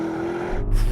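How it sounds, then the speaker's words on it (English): An Audi RS Q8 SUV launches hard with the throttle floored from a brake-held start, giving a loud, close engine surge that builds in the last half second. "left foot on the brake, floor the throttle, and launch it"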